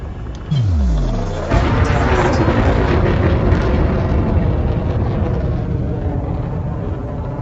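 Krait II spaceship thrusters boosting in the game Elite Dangerous: a falling whine sweeps down, then a loud, sustained roaring rumble kicks in and holds steady to the end.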